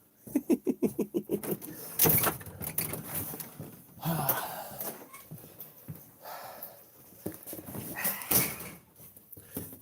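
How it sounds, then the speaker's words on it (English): A puppy gives a quick run of short, rhythmic whimpers and yelps up close, followed by scattered softer whines and some shuffling noise. "Puppy dog."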